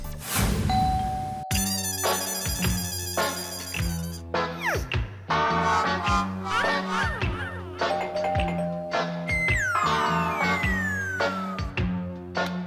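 A doorbell rings in repeated ding-dong tones at an apartment door in a Hindi sitcom scene, heard over busy background music.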